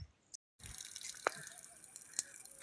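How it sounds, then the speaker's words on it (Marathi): Water runs and trickles steadily from a hose or pipe onto a tree at the foot of a hill fort. A brief gap breaks the flow, and a few faint drips and splashes follow. No voices are heard. "आणि आपण आता झाडाला पाणी देतो."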